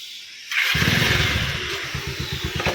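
A motorcycle engine sputters to life and settles into a steady, throbbing idle close by, with rhythmic low pulses.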